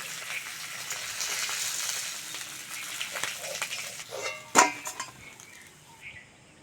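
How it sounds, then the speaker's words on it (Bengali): Fish fries in hot oil with a steady, close hiss that fades slightly, broken by a sharp metallic clink near the end. "মাছ ভাজা হয়ে গেছে, তেল থেকে মাছগুলো তুলে নেব।"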